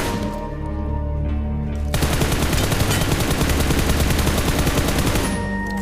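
Rapid automatic gunfire bursts from a battle royale video game, loud and sustained after a short lead-in of game tones, a dense rattling stream of shots with no one talking.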